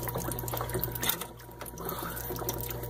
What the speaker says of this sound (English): hear the air coming out of the tank